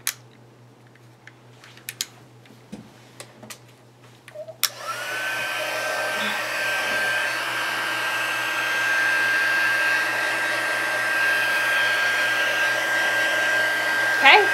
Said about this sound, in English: So let your embossing tool heat up first.